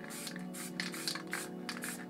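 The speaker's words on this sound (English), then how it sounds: "just go spray it a bit lighter around your lid stencils" MTN Hardcore spray paint hissing from a can onto a sheet around lid stencils, several short close bursts of airy spray with brief pauses between them, no speech.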